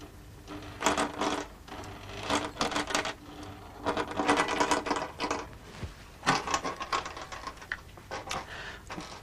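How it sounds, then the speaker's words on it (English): A stepper motor drives a sewing machine needle, giving bursts of rapid mechanical clicking and whirring with brief pauses between runs, close by and moderately loud. "I think you can see the stepper motor moving the needle in"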